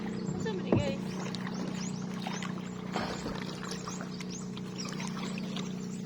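Paddles dip and splash as a small boat is rowed across clear sea water, a few nearby strokes and trickles over a steady engine-like hum, with people talking.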